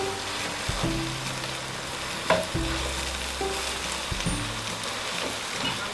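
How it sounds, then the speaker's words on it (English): Yam and green vegetables are stirred together in a cooking pot, making a continuous soft sizzle with scraping and clattering stirring strokes and a faint low hum underneath. "See, I'm stirring the whole thing together. My vegetables and the yam."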